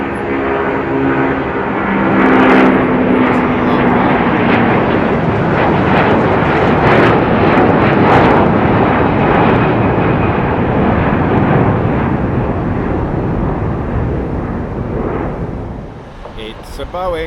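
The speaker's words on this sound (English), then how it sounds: "Virgin Atlantic's A330." A Virgin Atlantic Airbus A330 jet at London Heathrow gives a loud, swelling engine roar that builds and holds before easing off near the end, with talk mixed in.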